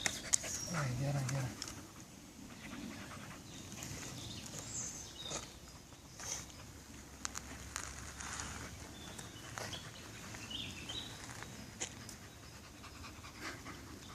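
A dog pants close by in quick, rhythmic breaths. Soft shuffling and an occasional faint whimper can be heard, with people talking quietly in the background.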